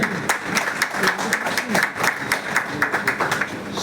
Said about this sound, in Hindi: एक बार जोरदार तालियों के साथ बजाकर इस कदम का स्वागत करें।